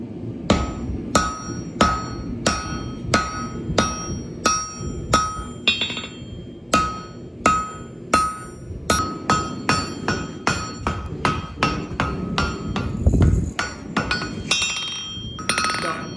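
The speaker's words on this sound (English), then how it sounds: "with every strike that I make, it's a very thuddy sound. It's very like dead and muffled." A forging hammer beats on a giant bronze sword blade in a steady run of about thirty dull, muffled strikes, close and loud, with brief pauses and a faint clink now and then.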